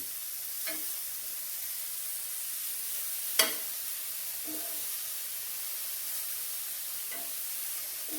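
Soya bean roast frying in oil on a dosa griddle gives a faint, steady hiss and sizzle with a few soft crackles and one brief sharper pop.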